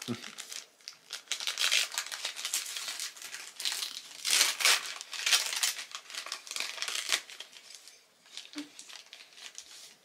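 Wrapping paper crinkling and tearing as a Christmas gift is opened, a continuous close rustle with louder bursts, while people talk quietly in the background.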